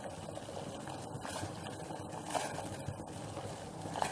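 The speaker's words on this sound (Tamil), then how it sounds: "தண்ணி நல்லா நமக்கு கொதிச்சிச்சு" Water comes to a boil in a pot while paal kozhukattai is being cooked, giving a faint, steady bubbling and simmering with occasional small pops close by.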